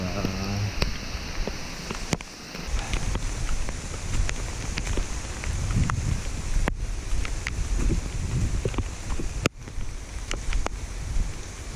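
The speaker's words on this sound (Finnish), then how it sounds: "Nyt tuulee ja myrskyää." Strong gusting wind on an outdoor hike at Koli in stormy weather, roaring and buffeting the microphone with sharp clicks and thumps throughout, loud and continuous.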